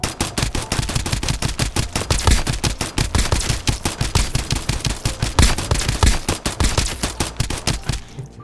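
Rapid, relentless automatic gunfire from the Space Glick pistol in the video game Escape from Duckov, dense, evenly spaced shots hammering loudly for several seconds without pause.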